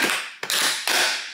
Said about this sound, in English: You just throw it in here and let it spin.